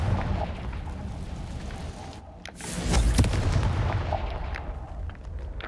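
Confringo blasting spell cast in Hogwarts Legacy, heard as a single booming explosive burst with a crackling tail, standing out from a busy game soundscape.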